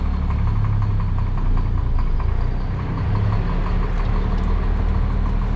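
A truck engine drones steadily while driving, giving a continuous low rumble with a constant hum and no voices.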